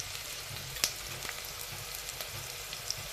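Berbere, oil and onion sizzle and fry steadily in a pan, a continuous close crackle with a few sharper pops and stirring clicks.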